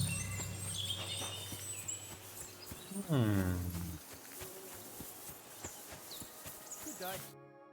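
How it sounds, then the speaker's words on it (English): Horse hooves clop in a steady rhythm in Kingdom Come: Deliverance II, with a brief whinny-like sweep and ambient outdoor noise; a voice speaks briefly. "Lovely horses you have here."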